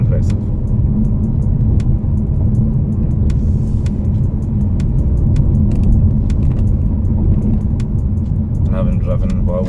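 The 1.5-litre turbo petrol engine of a 2019 Vauxhall Insignia Grand Sport with a manual gearbox hums low and steady while driving, with road rumble and faint rattles and a person talking over it.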